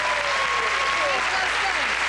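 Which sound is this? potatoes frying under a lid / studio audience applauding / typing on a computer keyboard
studio audience applauding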